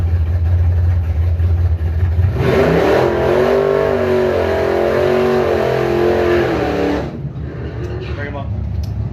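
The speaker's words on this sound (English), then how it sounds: "Phil Gunther left lane, father-son racing Jeep Comanche out of Beulah, 748 dial-in" A Jeep Comanche on a drag strip start line revs hard, its engine note rising and holding for several seconds before dropping back to a rumble, loud and close, with an announcer talking over it.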